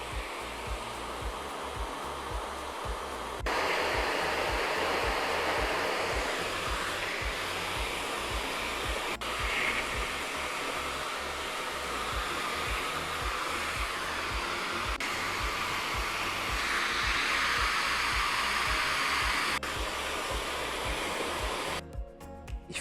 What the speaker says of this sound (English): Now we'll start drying the hair using a diffuser from the bottom